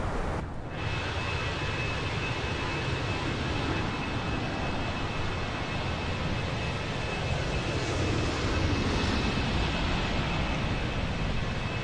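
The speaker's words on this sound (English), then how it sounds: "There's an aircraft just above us." Broadband airliner roar from an aircraft passing overhead in Microsoft Flight Simulator, steady and loud for the whole stretch with a thin high tone running through it, no voices.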